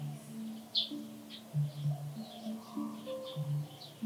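Birds chirp and tweet in short, scattered high calls around a garden in Bali, fairly faint over a steady low musical drone.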